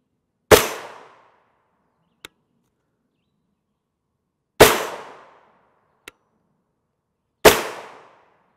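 Three loud, separate gunshots are fired at an NIJ Level IIIA soft body armor test panel, each a sharp close blast that rings out briefly. Faint small clicks fall in the pauses between the shots.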